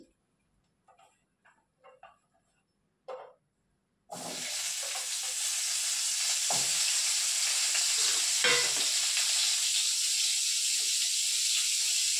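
Vegetable stalks dropped into a hot oily pan after fried eggplant, bursting into a loud, steady sizzle that continues without pause after a few quiet clinks and taps.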